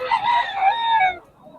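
A rooster crows once, loud and close, its call rising and then trailing off.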